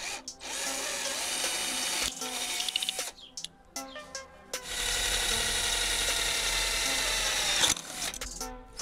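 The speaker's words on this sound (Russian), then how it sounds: "сверлю отверстие" An electric drill bores a hole through a plastic clothespin stationery-shop clip, whining in loud bursts with brief pauses and a final long, steady run.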